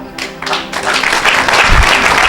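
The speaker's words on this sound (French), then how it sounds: "Acclame pour Jésus." An audience claps and cheers at a French-speaking religious gathering praising Jesus, a dense, steady wash of applause that swells and stays loud throughout.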